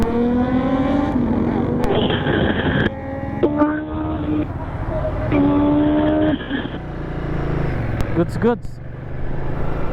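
A Ducati Multistrada 950 V2 motorcycle engine revs up and down in rising, falling surges, loud and close, with people talking over it throughout.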